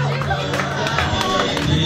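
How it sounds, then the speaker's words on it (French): Crowd at a youth sports competition cheers for Déborah after her first-round match win, a dense continuous roar of voices and clapping that fills the space throughout without pause. "Elle fait l'acclamation pour Déborah."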